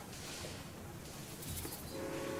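Train rumbling along a track in Railway Empire 2, a short steady mechanical run with a faint horn-like tone near the end, no talking.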